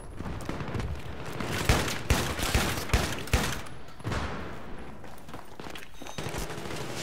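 AEK rifle fire in Battlefield 3 multiplayer: rapid bursts of close, loud automatic shots with sharp cracks, broken by short pauses, continuing throughout.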